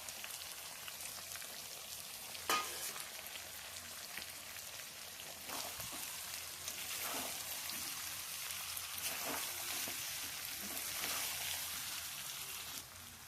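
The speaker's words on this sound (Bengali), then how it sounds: "তো এবার আমি ভেজে রাখা আলুগুলো দিয়ে দেবো।" Chicken curry with fried potatoes crackling in a pan, a dense hissing sizzle with scattered pops and spatters, faint and continuous with no voices.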